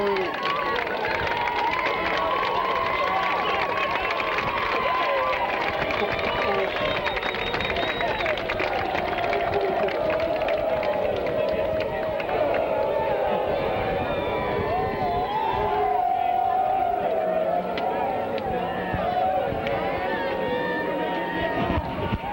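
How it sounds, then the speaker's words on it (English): Spectators in the stands at a 1991 high school football game between Hudson and Bartlett keep up a dense, steady roar of cheering and crowd babble, while an announcer talks over it throughout. "That would be the Indians cheer"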